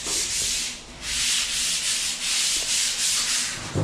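Close, rhythmic sanding strokes, sandpaper rasping back and forth over wood in steady repeated passes with no voices.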